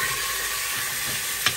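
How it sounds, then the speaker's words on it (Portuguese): Chicken pieces browning in a very hot pot with oil for soup, a loud, steady sizzle and crackle of frying with a brief stirring scrape near the end. "Aí aqui agora eu coloco pra dourar o frango"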